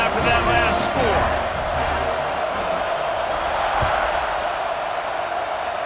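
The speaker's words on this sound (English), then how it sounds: "this crowd is buzzing after that last score" Stadium crowd noise from a college football video game (EA Sports College Football 26, Oklahoma), a steady loud buzzing roar of a large audience before a kickoff, continuous throughout with a commentator talking over it.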